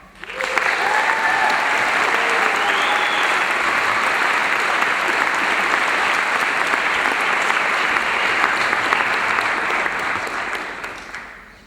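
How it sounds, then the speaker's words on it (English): A large audience at a cultural show bursts into loud, sustained applause that swells quickly and holds as a dense wash of clapping before fading at the end, with a few whoops and cheers rising above it. "please give a round of applause for Jamira."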